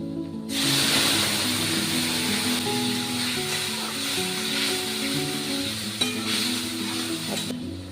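Sliced potatoes with spices sizzle steadily in hot oil in a home kitchen pan, a loud continuous frying hiss with occasional stirring clinks, no talking.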